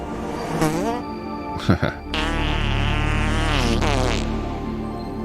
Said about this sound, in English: Hang on, let's have a fart noise.